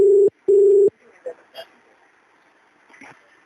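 A telephone call's ringback tone sounds two steady beeps in quick succession, then the line goes quiet except for faint clicks and soft background noise.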